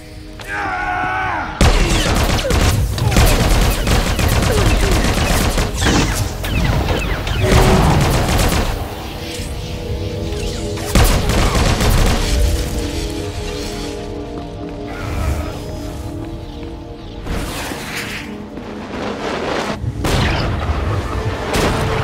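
A firefight in the video game SWTOR erupts with dense, rapid blaster and gunfire bursts and heavy booms, sustained and loud throughout with brief lulls between volleys.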